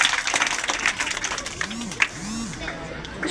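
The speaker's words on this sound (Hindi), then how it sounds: "उनके लिए जोरदार तालियां होनी चाहिए" Audience applause and crowd murmur at an event honouring a Padma Shri awardee farmer, clapping spread across the room with chatter and a voice over it, one sharper clap standing out midway.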